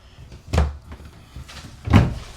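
A large drawer in a 2026 Grand Design Reflection 322FKTS RV slides and thumps twice, each with a short knocking bump, close and fairly loud with quiet rustling between.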